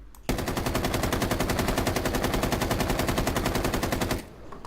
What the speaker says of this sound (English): I just shot like 40 bullets